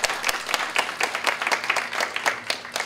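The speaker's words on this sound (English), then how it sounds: "Could we give him a round of applause?" Congregation applause during an English-language church service, a thin scattering of individual claps from a modest crowd, close and irregular, lasting a few seconds without talk.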